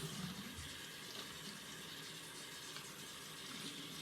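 Tap water running steadily from a faucet to rinse hair removal cream off a child's arm, a continuous close splashing rush with no pauses.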